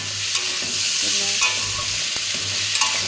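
Spinach greens frying and being stirred in a hot pan with mustard paste and slit green chillies, a steady close sizzle with scraping stirs and small clinks, no talking.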